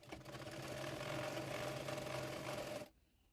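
A sewing machine runs steadily for nearly three seconds while stitching salwar fabric, giving a continuous fast whirring buzz that stops abruptly into quiet room tone.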